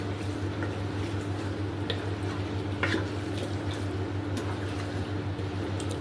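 Marinated chicken with ginger and garlic is stir-fried in oil in a pan for chicken rezala, giving a steady close sizzle with occasional scraping and squishing stirs over a constant low hum.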